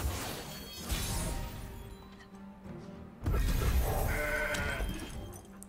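Goat bleats from the card game Legends of Runeterra, the cries of an adult goat and a baby goat, loud and close over game music with a crashing impact midway.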